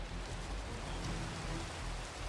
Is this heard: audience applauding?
no